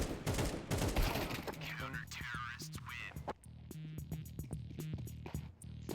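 Counter-Strike 2 gunfire, rapid bursts of automatic rifle shots followed by scattered single shots, loud and close amid game sound effects.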